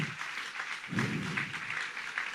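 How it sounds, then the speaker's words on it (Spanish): A church congregation claps for the Lord during a sermon, a modest, somewhat distant patter of applause that swells briefly, with faint voices behind it. "Apláudale fuerte si lo va a aplaudir al Señor"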